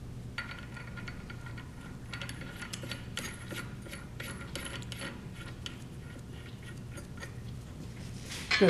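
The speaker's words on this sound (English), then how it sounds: "we would take a wrench like this, or a regular open box end wrench, and start snugging the bolts" A wrench snugs the bolts on a Conval Camseal valve, giving faint, irregular metallic ratcheting clicks close by over a low steady hum, ending with a sharper clank.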